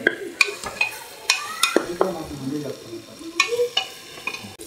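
Capsicum and other vegetables frying in a pan for millet kichidi, repeated spatula scrapes and clinks against the pan over a soft sizzle, close and uneven in rhythm.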